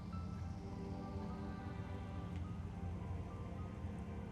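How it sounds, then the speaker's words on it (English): Steady, dense rain hiss from the video game Metroid Prime, falling continuously without pause at an even level and with no talking over it. "Oh, look at the raindrops hitting your gun!"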